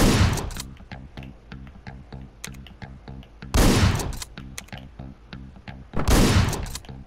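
Gunshots in the top-down shooter Hotline Miami boom out in three loud blasts, each trailing off, with a rhythmic electronic beat pulsing between them.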